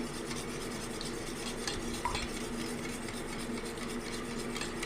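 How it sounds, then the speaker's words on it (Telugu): Four eggs beaten hard in a bowl for a bread omelette, a continuous fast stirring and scraping rhythm, close and steady throughout, with no speech. "నాలుగు గుడ్లను పలగొట్టి బాగా మిక్స్ చేసుకోవాలి"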